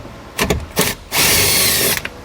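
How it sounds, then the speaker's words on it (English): A power tool with a 10mm socket removes panel bolts, giving two short whirring bursts followed by a loud, steady drill run of nearly a second, close up. "we're going to grab a 10mm socket and remove 2 bolts that holds this paneling on"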